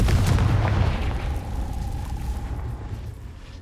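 Confringo fire spell exploding in Hogwarts Legacy, a close booming blast with a rumbling tail that fades steadily over a few seconds.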